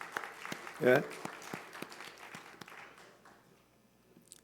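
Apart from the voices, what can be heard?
congregation applause in church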